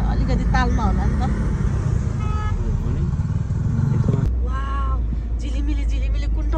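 Motorbikes pass close on a road in Tokha during New Year evening in Nepal, a continuous rumbling engine drone with one vehicle cutting out abruptly partway, while voices talk over the traffic.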